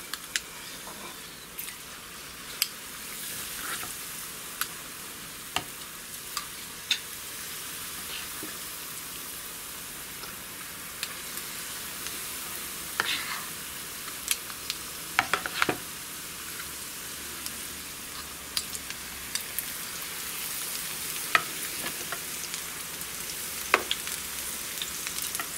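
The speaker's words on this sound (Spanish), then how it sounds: "Vas a utilizar dos cucharas para ir añadiendo al aceite" Codfish fritters (bacalaitos) sizzle steadily in hot oil, spooned in with two spoons; a dense, even crackle with scattered sharper pops and spits throughout, no voices.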